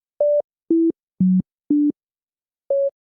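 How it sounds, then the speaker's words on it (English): Well-known melody played as five pure electronic tones whose notes leap between octaves, each a short steady beep separated by gaps, with a longer pause before the last, clear and isolated with no other sound. "So Diana takes a well-known tune, doesn't change the melody, just changes the range"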